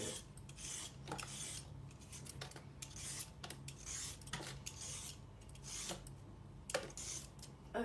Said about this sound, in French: on économe et hop, tchic-tchac, on épluche